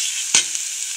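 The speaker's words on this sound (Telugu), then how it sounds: "మసాలా పేస్ట్ వేసుకొని మంచిగా కలిపేసుకొని ఒక 2 to 3 minutes అనేది పచ్చివాసన పోయే వరకు" Masala paste for prawn curry frying in oil, a bright steady sizzle close up with one sharp scrape of a spoon mixing it partway through.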